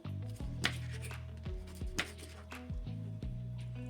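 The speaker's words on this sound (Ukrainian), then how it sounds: "я нарізаю її на шматочки" Repeated knife chops and scrapes on a cutting board as mackerel is cut into pieces, irregular and close, over a steady low hum.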